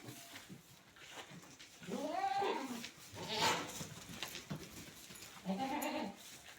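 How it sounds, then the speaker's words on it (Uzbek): Purebred dairy goats bleat at close range. There are a few separate wavering calls with short pauses between them, fairly quiet over a soft background. "Mana shu to'rala echkimiz"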